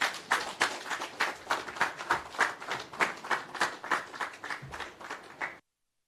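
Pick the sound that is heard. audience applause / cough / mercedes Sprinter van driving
audience applause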